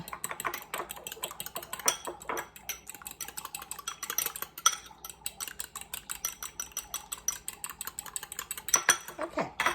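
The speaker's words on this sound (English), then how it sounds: "I get a fork out, I forgot. Beat those suckers up." A fork beats eggs in a bowl for sheet cake batter, producing rapid, sharp metallic clicks against the dish in an uneven rhythm, close and fairly loud throughout with no talk over it.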